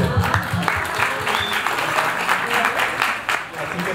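An audience at a talk breaks into applause, dense clapping heard close alongside overlapping voices and speech.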